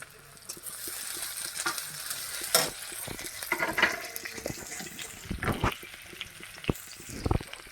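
Green and dried chilies frying in a pan sizzle steadily up close, with scraping stirs and a few sharp utensil knocks against the pan.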